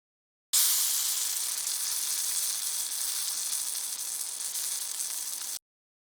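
Food sizzles on a grill at a Fourth of July cookout, a steady, bright hiss that holds evenly for about five seconds, close and fairly loud, with no voices.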